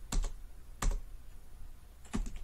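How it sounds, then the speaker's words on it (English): A few isolated keystrokes on a computer keyboard, three sharp clicky taps spaced apart in an otherwise quiet room, close and distinct. "Now as I am typing,"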